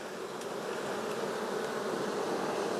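Honeybees in an open beehive on a frame with nectar, a dense, steady swarm buzz filling the air, loud and close with no talk.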